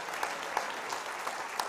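A live audience at a Dancing with the Stars charity event applauds a dancer with steady, fairly quiet clapping and a few sharper claps standing out at regular intervals, with no talking.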